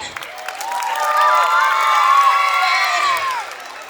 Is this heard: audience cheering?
yes